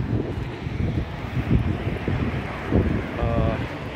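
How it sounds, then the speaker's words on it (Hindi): Gusty wind of a sandstorm in Bahrain roars and buffets the microphone in steady, surging waves, with a voice speaking faintly underneath. "अभी थोड़ा सा साफ है लेकिन फिर भी हवा चल रही है"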